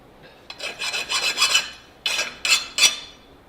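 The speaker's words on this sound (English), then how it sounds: "The blade that you see me using here to scrape off all the clay is a karambit that I forged out 4 years ago but never finished." A hand-forged karambit blade scrapes clay off a sword blade in a series of close, rough rasping strokes, several longer passes followed by three short sharp scrapes.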